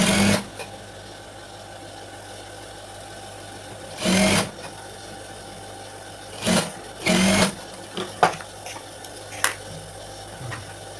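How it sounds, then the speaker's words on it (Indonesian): A sewing machine stitches a pocket onto a school skirt in several short, loud bursts of whirring, separated by quiet pauses. "Yang bagian sini kita jahit."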